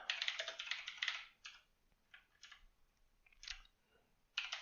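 Keys clatter on a computer keyboard in quick bursts of typing, with louder clustered runs at the start and end separated by sparser, quieter taps and short pauses.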